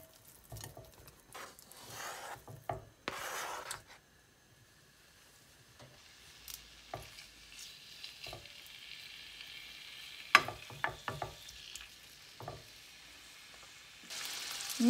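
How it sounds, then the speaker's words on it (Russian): Pieces of cut meat frying in a hot pan for goulash, a steady crackling sizzle with scattered pops and sharp spatters, close and fairly quiet with no talking. "обжарим мясо"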